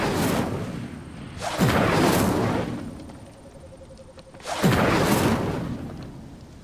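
Incendio fire spells cast in the game Hogwarts Legacy: two loud whooshing, roaring bursts of flame, each swelling suddenly and lingering for about a second and a half before fading, separated by a quieter stretch.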